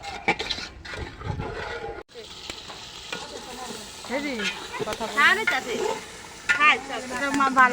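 Rice frying in a pot with spiced meat for biryani on a rooftop, a soft hiss and sizzle with stirring scrapes running under a person talking.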